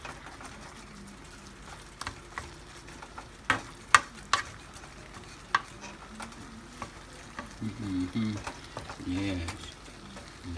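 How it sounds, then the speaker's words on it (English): Ground meat filling for lumpia browning in a skillet, a low steady sizzle punctuated by sharp spatula taps and scrapes as it is stirred, with a brief spoken word and a voice near the end. "It's cooking nice, getting a nice cook in this skillet right here."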